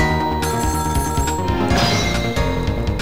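A telephone rings in the Ghost Trick video game, a loud electronic bell trill with rapid repeated tones and a sharp clattering accent, filling the short moment without any talk.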